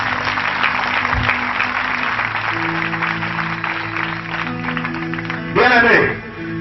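A church congregation bursts into applause, a short loud round of clapping near the end, following a preacher's amplified speech and a murmuring crowd.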